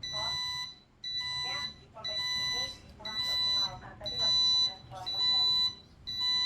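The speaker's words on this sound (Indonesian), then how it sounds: "Buzzer berfungsi normal, aman." A shrill electronic alarm buzzer on a closed-house chicken coop pulses on and off in roughly one-second bursts, loud and nearby, signalling a fan fault, with a voice talking underneath.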